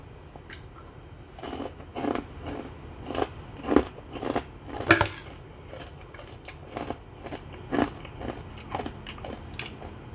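Crispy pork rinds crunch loudly and close up in a run of sharp bites and chews, each crackling burst separated by short pauses, with no talking.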